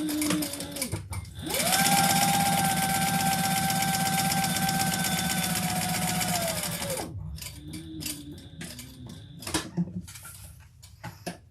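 Sewing machine running steadily for about five seconds while top stitching trim onto a slip pocket, a continuous close mechanical whir that stops, followed by softer handling noises and light taps.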